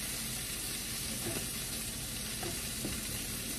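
Sausages sizzle steadily in a frying pan with eggs, a constant crackling hiss with occasional scrapes as the food is pushed around.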